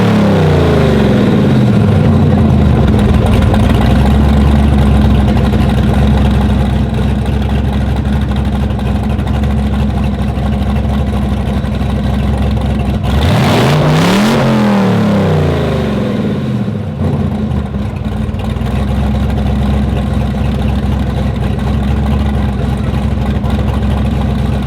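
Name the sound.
car engine revving on a dyno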